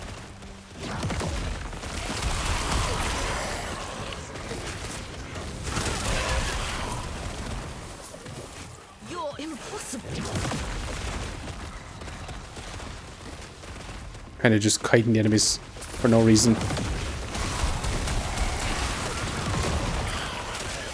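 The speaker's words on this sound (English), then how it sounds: "It's a lot of explosions." Repeated explosions go off in Diablo as a Warlock character fights waves of enemies. The blasts come as rolling, crackling bursts under steady talking, with a couple of sharper hits near the middle.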